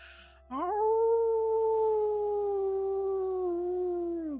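A single long wolf howl carries from a distance, a steady sustained tone that holds for several seconds before gradually sinking in pitch at the end, with no voices over it.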